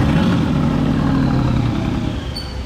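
An Aston Martin Valkyrie engine roars loud and near in a dense, rough drone that eases slightly toward the end, with no talk over it.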